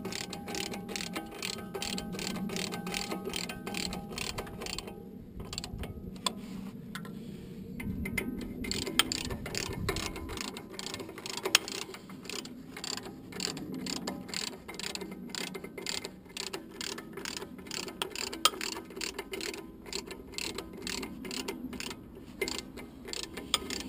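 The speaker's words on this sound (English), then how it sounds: "it's just a matter of re-tightening the bolts to support the diff" Ratchet re-tightening bolts on the rear differential of a VW T4 Syncro van, a steady run of rapid metallic clicks continuing throughout at close range, fairly quiet.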